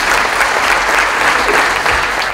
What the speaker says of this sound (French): Je vous demande d'applaudir, s'il vous plaît, Madame Gabriela Ramos.